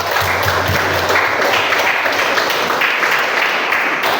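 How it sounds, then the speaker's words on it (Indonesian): A classroom audience of teachers in a group-discussion session applauds a presenting group, with steady, even clapping sustained throughout at close range. "Kasih aplaus dulu untuk kelompok"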